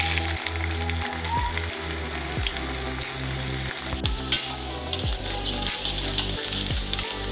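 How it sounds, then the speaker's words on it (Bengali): Chopped onion fries in hot mustard oil for a Bengali mutton dish. It sizzles loudly and steadily, with a regular scrape and clink of a spatula stirring the pan about every half second. "তেলটা ভালোভাবে গরম হয়ে গেলে এর মধ্যে আমি দিয়ে দিচ্ছি কুচনো পেঁয়াজটাকে"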